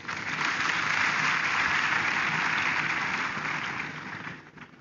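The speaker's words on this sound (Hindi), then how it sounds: "अब जोरदार ताली बजाइए इनके लिए" Sustained applause from an audience in a hall, a dense, steady wash of clapping that keeps up for several seconds and then fades slightly at the end, with no voices over it.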